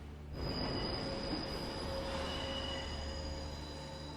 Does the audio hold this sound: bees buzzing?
no